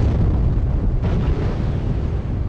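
A bomb blast in the video game Alien Versus Predator 2, a dense, loud rumbling roar with low-end weight that fills the whole stretch without a clear single onset, with no talk over it.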